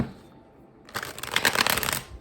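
Tarot cards being shuffled by hand, a quiet pause followed by a dense burst of crisp riffling and flicking that builds and continues steadily to the end, close and moderately loud.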